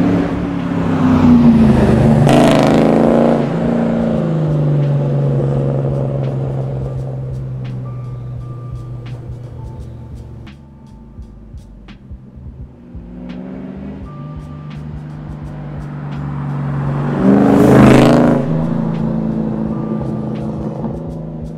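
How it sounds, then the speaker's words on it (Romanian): Ford Mustang GT V8 engine revving while driving, loud rising and falling engine note with two strong acceleration pulls, the second peaking near the end, between steadier cruising drone. "e să mai auzi V8-ul la o dată."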